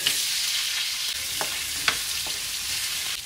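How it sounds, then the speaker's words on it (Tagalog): Carrots and potatoes frying in oil in a pan, a steady close sizzle throughout with a few soft stirring clinks. "Carrots and patatas, ipapan fry lang natin."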